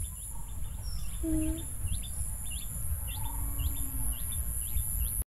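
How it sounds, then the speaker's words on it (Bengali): Several birds chirp and call intermittently over a steady outdoor background hum, short tweets scattered throughout. "ও হ্যাঁ অনেকগুলো পাখি, তাই তো"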